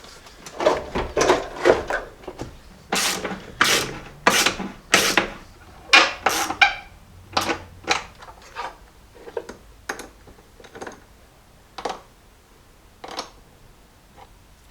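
Battery being reinstalled in a Jeep: a string of close, sharp clunks, rubs and scrapes of metal and plastic parts being fitted, busy at first and thinning into spaced knocks, with no talking.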